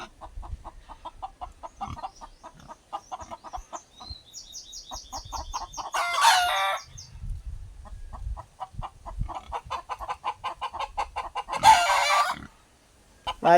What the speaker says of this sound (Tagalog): Ay, natatakot ang manok dito.